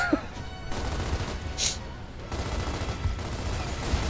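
A mounted turret fires bolts in a Gears of War battle, rapid bursts of heavy gunfire blending into a continuous, noisy barrage with brief louder cracks, steady and close throughout.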